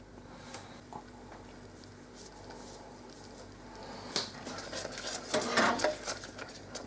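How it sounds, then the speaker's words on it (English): Corned beef stirred in a pot, a faint background of low scraping and occasional spoon taps that grows busier and louder toward the end, with scattered clinks and no speech. "Just give it a stir every now and then and keep an eye on that."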